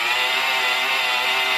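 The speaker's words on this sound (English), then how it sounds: "And I'm going to stop the drill." A power drill runs steadily and close up while spinning to prime the oiling system of a Ford 351 Cleveland engine, giving a constant high-pitched motor whine with no pauses.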